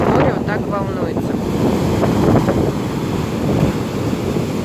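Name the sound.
rough sea waves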